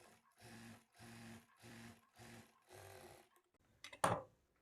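Sewing machine stitching the lining of a blouse, five steady whirring bursts close by separated by short pauses, followed by a sharp clunk near the end.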